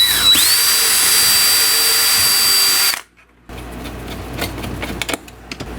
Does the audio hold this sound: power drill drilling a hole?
yes